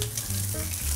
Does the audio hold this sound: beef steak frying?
yes